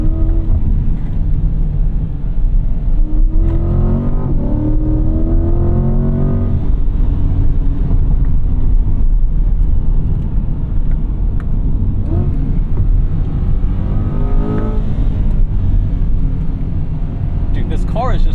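A 2024 Chevrolet Corvette C8 Z51 in manual mode revving hard toward its 6,500 RPM redline, a loud engine note climbing in pitch through gears, with people talking over it inside the car.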